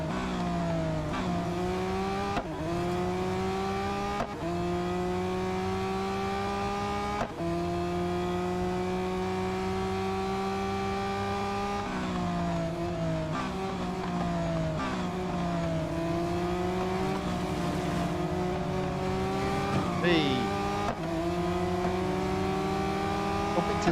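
A Lamborghini race car engine in Real Racing 3 drones steadily throughout, rising in pitch under acceleration and dropping sharply at several gear changes, loud and close with no talk.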